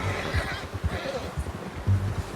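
A horse in the video game Red Dead Redemption 2 gives a short, fairly quiet whinny, mixed with a few soft hoof clops.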